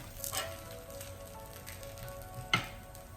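A split mung bean and spinach crepe frying in a pan just after being flipped, a faint soft sizzle with a couple of brief scraping taps.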